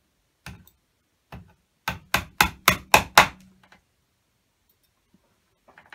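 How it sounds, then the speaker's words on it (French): A magnetic upholstery hammer drives tacks into chair webbing during seat reupholstery. Two spaced taps come first, then a quick burst of six sharp, loud, evenly paced strikes, and after that only quiet. "si vous avez du mal à le mettre avec le marteau aimanté comme ça, vous le mettez à la main et vous tapez avec le non aimanté"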